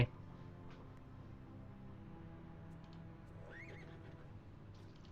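A horse whinnies amid Battle Realms gameplay sounds, a rising neigh with faint hoof clip-clop over a low, steady game backdrop at moderate distance.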